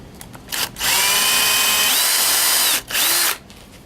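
A power drill whirs loudly as it drives toenail screws into wood held with clamps and a spacer, one long steady run then a short second burst, up close.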